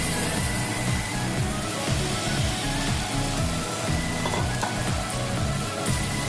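Fried potatoes tumbling into spice masala simmering in oil, a steady dense sizzle with stirring scrapes running throughout for about six seconds, close and fairly loud, with no talking.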